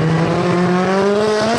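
A roughly 500-horsepower Pikes Peak hill-climb race car roars loud and close, its engine note held steady and rising slightly in pitch over a short burst, with no voices.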